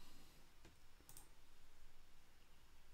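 A computer mouse is clicked on an add button, giving a couple of quiet, sharp clicks over a faint steady hiss.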